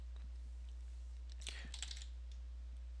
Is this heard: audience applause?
no